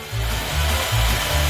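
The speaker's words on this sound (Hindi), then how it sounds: "मैं यहाँ सब ड्रिल करूँगी" A power drill runs in short, close, loud bursts, its low motor drone rising and dipping in uneven pulses with no talking.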